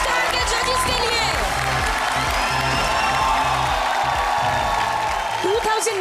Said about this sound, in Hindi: आइए सर आप एक बार जोरदार तालियां हमारे राइजिंग स्टार के जजेस के लिए।